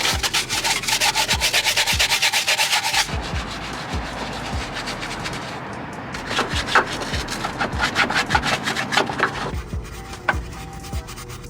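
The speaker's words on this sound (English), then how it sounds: "I'm just gonna use this bristle brush." A bristle brush scrubs the wheel well of an E30 car in steady, close, rasping strokes. The rhythm shifts partway through and continues without pause and with no talk.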